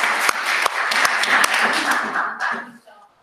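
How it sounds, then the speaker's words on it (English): A small meeting of a children's trust on the Isles of Scilly gives a round of applause. The clapping from a modest group is dense and close, then thins out and fades near the end. "Would you like a round of applause as well, Henry?"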